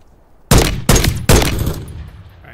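Three loud gunshots from Call of Duty: Modern Warfare 3, evenly spaced about half a second apart, each a sharp crack with a ringing echo tail, fired at a sniper in the trees.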